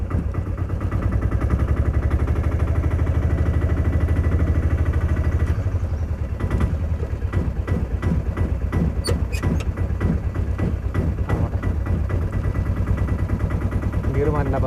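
Auto rickshaw engine running steadily and loud throughout while being shifted toward reverse gear, with a chugging, pulsing rumble that grows rougher in the second half and a few sharp clicks.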